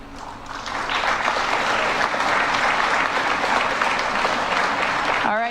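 An audience at a school Veterans Day ceremony breaks into sustained applause, building quickly to a full, loud wash of clapping that holds steady, with a brief rising tone at the very end.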